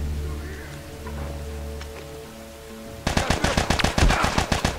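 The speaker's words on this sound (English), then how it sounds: "Get up and shoot the prick." Rapid automatic gunfire erupts in The Last of Us video game, a loud burst of close shots in quick succession after a quieter stretch of low ambient game sound.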